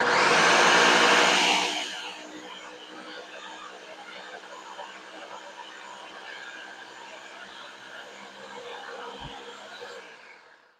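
A food processor whirring loudly through peanuts for homemade peanut butter, a short burst at full speed then a lower sustained grinding drone that runs on steadily before cutting off, close by and without talking.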